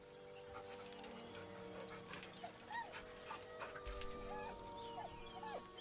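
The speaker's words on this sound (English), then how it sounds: "The dog whimpers nervously," A dog whimpers nervously in the video game Baldur's Gate 3, with several soft rising whines and yips over a low ambient game backdrop, fairly quiet and steady throughout.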